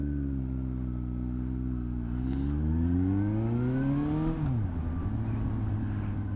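A 2012 Suzuki GSR750A motorcycle engine revs up through rising pitch, dips as a gear changes, then climbs again, a steady close-up droning roar with no talk.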